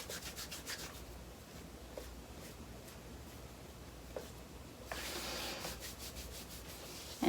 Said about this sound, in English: Maybe give the foot a little extra rub.